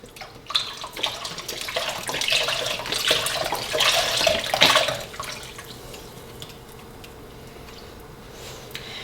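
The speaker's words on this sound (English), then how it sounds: "I'm going to pour in our last little bit of chicken stock." Chicken stock pouring in a steady splashing stream into a pot for a few seconds, then tapering off to quiet drips.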